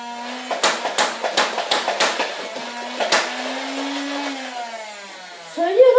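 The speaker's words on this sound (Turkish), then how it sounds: "Takıyorsunuz motor çalışıyor." A Nerf Rapidstrike toy blaster motor whirs with a steady, close hum, broken early on by a rapid string of sharp clacking bursts. A lone burst follows, then the whine keeps running until a final clatter. No one speaks.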